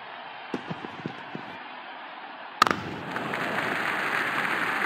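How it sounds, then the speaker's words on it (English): Crowd cheering in the Real Cricket video game during an IPL 2024 match, Rajasthan Royals versus Lucknow Super Giants: a few soft thuds, then a sharp burst as a loud, steady roar of cheering rises and holds to the end. "Crowd is going crazy."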